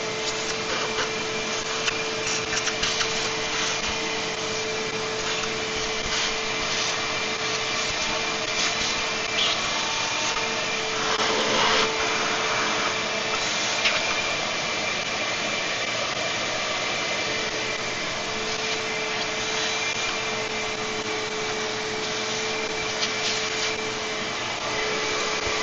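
A vacuum cleaner sucks up crud from between the threads of tractor studs on a Farmall 400 under repair, its steady whining drone running loud and unbroken with occasional rattles of debris.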